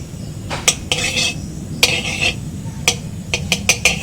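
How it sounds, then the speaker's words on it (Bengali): Semolina stirred into ghee in a karahi, giving scattered scraping and clinking strokes of a spoon against the pan, fairly close, irregular bursts with short pauses between and no voices. "সুজিটা একটু অল্প করে নেড়ে নেব প্রথমে ঘিতে।"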